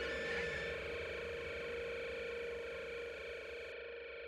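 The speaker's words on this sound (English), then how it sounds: "Oh, you hear that electronic, like, distortion buzzing noises." Sustained electronic distortion buzz and feedback from a punk song, a dense harsh drone with steady layered tones holding loud throughout, with no voices.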